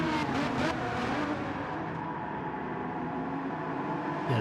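GT1 V12 race cars racing at Daytona in a racing game: loud, continuous engine roar with layered revving tones as several cars run close together, ending in a sharper rising rev.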